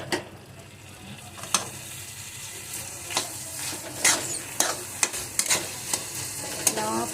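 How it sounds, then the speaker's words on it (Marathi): Grated carrot halwa with sugar being stirred and sautéed in ghee in a pan: a soft steady sizzle under a series of scraping spoon strokes and light knocks against the pan, close by. "तूप टाकून मस्त परतून घेत आहे।"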